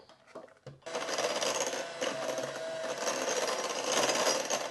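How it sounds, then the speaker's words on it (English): An electric hand mixer whirs loudly and steadily as it beats gluten-free vegan pumpkin cookie dough in a bowl. It starts after a few soft knocks at the beginning, and no one speaks over it. "We're gonna be done with our hand mixer, so let's make sure to scrape off our beaters"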